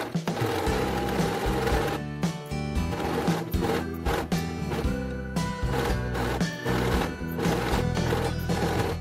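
An overlock sewing machine stitches a fabric tie strip for a baby robe, running loud and close with a fast mechanical whirring and chattering that briefly stops and restarts several times.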